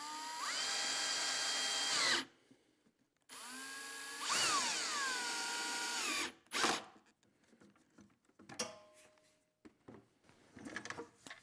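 Power drill driving screws into the corners of a wooden coffee table, two long, close whirring runs that rise in pitch as each screw seats, followed by clamp and handling clatter, with no talk.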